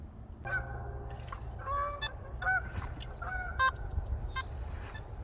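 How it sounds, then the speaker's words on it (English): A metal detector gives off tones that sound like Canadian geese honking, several short nasal pitched calls in irregular bursts over a steady low background hum. "I think your detector just called in a couple geese there, Stan."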